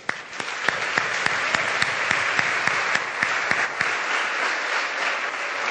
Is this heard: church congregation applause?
yes